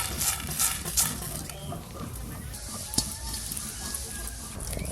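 Whole spices, including mace, fry in mustard oil, producing a quiet, steady sizzle with faint crackles and a soft clink near the start.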